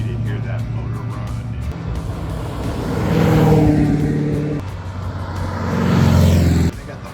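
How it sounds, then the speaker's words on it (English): A classic car engine runs steadily at a car show among VW Beetles and a Mustang, its low rumble swelling twice as it revs, with people talking nearby. "they're just a thing of beauty to hear that motor run"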